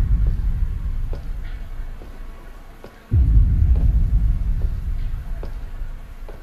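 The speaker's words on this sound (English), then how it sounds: "that freaking thunder and lightning is really scary. Kind of loud." Thunder in the horror game Slender: Mansion, a deep low rumble that swells, dies away, then breaks into a sudden loud rolling boom that slowly fades.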